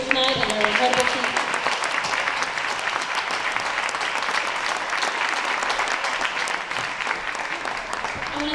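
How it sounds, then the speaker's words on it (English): Sustained applause from a banquet audience at a school fall sports banquet, dense and steady throughout with some voices and a tone briefly at the start. "give one more round of applause to all of our athletes here tonight and their incredible team"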